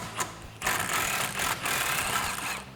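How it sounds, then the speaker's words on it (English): A socket ratchet clicks rapidly and continuously, close by, as 13 mm sway bar bolts are removed from a 1979-2004 Mustang rear suspension, with a brief pause near the start. "So grab your socket, get those off."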